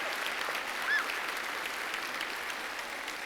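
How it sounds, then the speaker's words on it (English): A church audience applauds steadily for a few seconds, a dense even wash of clapping with no talk over it. "Give him a round of applause"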